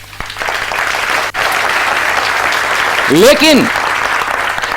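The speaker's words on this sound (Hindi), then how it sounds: "आपने ताली बजाई, थैंक यू" An audience at a seminar claps together in a dense, sustained wave. A voice speaks over the clapping, and a short rising tonal sweep cuts through near the end.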